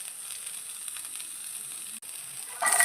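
Sliced onions sauté in hot coconut oil for a beef biryani, giving a steady, even sizzle throughout with one brief break before it grows a little louder at the end.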